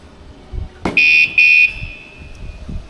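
A short electronic chirp-beep sounds twice in quick succession, a high, loud motorcycle alarm activation confirmation tone on a Kawasaki Ninja ZX-4RR, with a faint lingering ring afterward.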